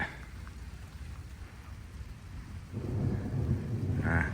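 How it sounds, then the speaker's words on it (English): Distant cloud-to-cloud thunder from a huge storm rumbles low and steady over rain, swelling louder partway through, with no voices. "On the northern edge of a sprawling mesocyclonic thunderstorm complex."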